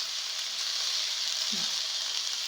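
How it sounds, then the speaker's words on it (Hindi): Vegetables frying briefly in a pan to take off their rawness, a steady broadband sizzle that holds evenly throughout with no talking over it. "बिल्कुल थोड़ी देर के लिए फ्राई"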